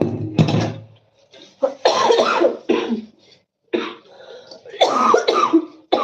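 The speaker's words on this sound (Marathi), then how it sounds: "इतका खोकला लागलाय ना" Someone coughs repeatedly in harsh, close bursts, fits of coughing separated by short pauses.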